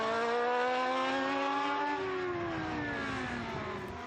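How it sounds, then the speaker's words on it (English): A Kozlov V8 historic race car engine revs loud and close, its harmonic tone climbing steadily through the range before easing slightly, with no voices present. "Another Kozlov V8, slightly fluffy down low as it picks up through the rev range"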